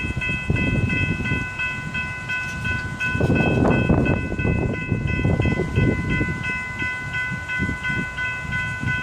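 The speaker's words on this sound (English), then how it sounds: "It's first time catching the NSGO train." A Norfolk Southern geometry train led by EMD locomotives rumbles past close by with heavy clattering wheels, while a sustained multi-note horn chord sounds continuously over the passing cars.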